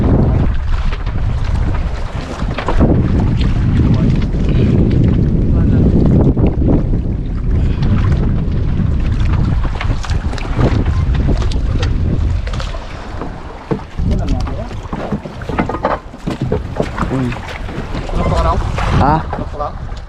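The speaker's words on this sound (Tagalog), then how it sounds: "dahil ang hangin medyo malakas hirap guyutin or hilahitin" Strong wind roars across the microphone aboard a small boat at sea, a loud buffeting rush with gusty swells over water noise, while people speak at times underneath.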